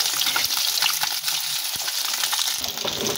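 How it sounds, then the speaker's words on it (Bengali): Eggs frying in a pan for egg curry: a loud, continuous oily sizzle and crackle fills the whole moment, with a few soft scraping taps underneath. "ডিমগুলো দিয়ে দেব, দিয়ে একটু ভেজে নেব।"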